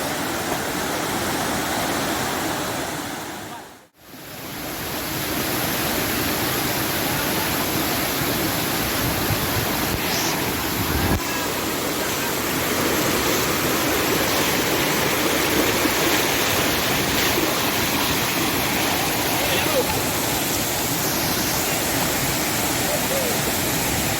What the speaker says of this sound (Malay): Air terjun 7 bidadari